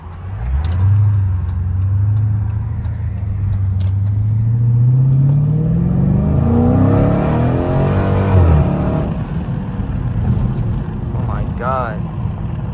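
Dodge Challenger Scat Pack V8 engine rising from a low rumble to a strong revving roar as the car accelerates through a U-turn, heard from inside the cabin with someone talking over it.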